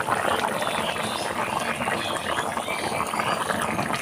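Chicken curry bubbles in a pot, a steady close simmering hiss and crackle with fine popping, continuous and even throughout.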